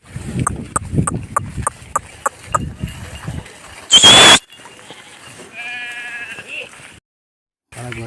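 Sheep bleat repeatedly in a rhythmic series while grazing on paddy stubble, the calls loud and close with shuffling noise beneath, followed by a sharp burst of noise and quieter rustling.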